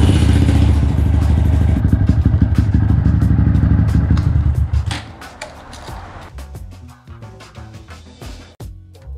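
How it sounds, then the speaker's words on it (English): A Honda Grom motorcycle engine runs loud and close in a garage with a steady low rumble, then drops to a quieter idle with some rattling clatter and knocks. "Don't start your bike in a closed garage."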